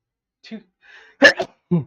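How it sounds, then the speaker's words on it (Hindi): A single sharp sneeze bursts out close to the microphone amid brief, quiet vocal sounds and a short spoken word. "मैं पहले छींक ले ली"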